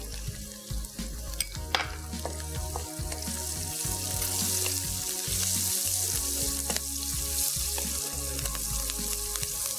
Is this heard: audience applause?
no